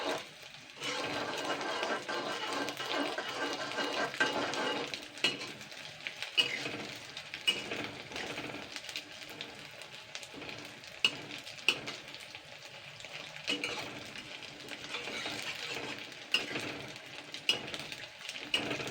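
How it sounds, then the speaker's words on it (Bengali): Puffed flour dough balls deep-fry in oil with a soft, continuous bubbling crackle, fairly quiet and close, broken now and then by faint clicks of a utensil and brief moments of quiet talk. "এগুলো ভাজা হয়ে গেছে লাল লাল করে এবার আমি এগুলোকে তুলে নেবো"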